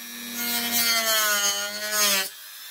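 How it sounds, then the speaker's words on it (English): A Dremel rotary tool cuts through plastic while a model building is being built. It gives a close, steady whine for about two seconds, with a slight pitch wobble as it bites, and then stops abruptly. "Bit of Dremel action."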